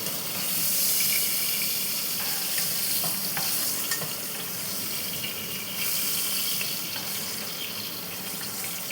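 Vegetables for Bengali shukto fry in a pan with a continuous close sizzle. Occasional scraping stir strokes cut through the hiss, which stays steady throughout.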